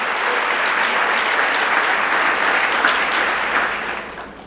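A church congregation claps together in dense, steady applause that fills the room and fades toward the end.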